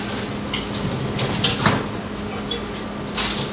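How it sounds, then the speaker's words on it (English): A kitchen tap runs steadily as a towel is wetted under it, a continuous close hiss of water with a few louder splashes and clunks. "so this I would take a towel,"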